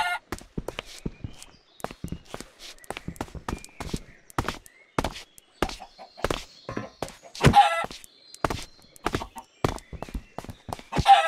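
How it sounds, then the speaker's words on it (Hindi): Chickens in modded Minecraft being hit, a rapid irregular series of short clucks and hit sounds mixed with footstep-like clicks, loud and close, continuing throughout without speech. "मुर्गी मारता है गाइस।"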